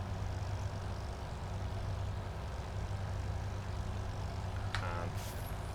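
A Hurricane MK1 aircraft engine in Microsoft Flight Simulator coughing and spluttering, a low rough drone that is continuous and moderately quiet, with a short higher burst near the end and no talking.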